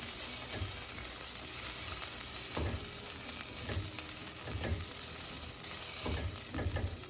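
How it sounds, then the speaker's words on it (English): Oven-roasted tomato strips sautéing into risotto rice in a pan, a steady bright sizzle with regular soft stirring knocks every second or so, close, no talking. "we're going to saute that into the rice"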